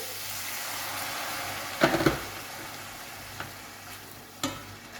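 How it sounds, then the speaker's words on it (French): Vegetables sizzle in a frying pan while a little water is added to deglaze them for a chicken blanquette; a steady hiss is broken by a few sharp stirring clinks and bursts of crackle, with no talking. "on vient déglacer un petit peu, c'est-à-dire ajouter un peu d'eau"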